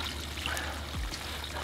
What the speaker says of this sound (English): Give her a rinse down first.